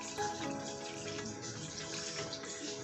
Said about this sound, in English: I'm going to add more water because I need more stock to cook my jollof rice